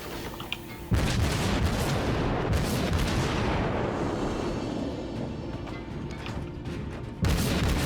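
Naval gun volleys in World of Warships, a heavy broadside blast opening a long rumbling roar that slowly decays, then another loud boom near the end, with no talk over it.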